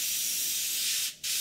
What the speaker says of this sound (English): we've got a perfect spray pattern